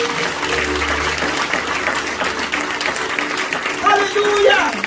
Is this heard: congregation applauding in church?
yes